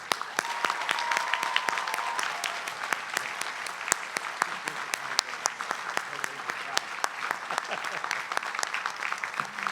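Audience applause at a university commencement ceremony as an emeritus professor comes to the podium: dense, steady clapping from a large crowd, sustained at moderate loudness for about ten seconds.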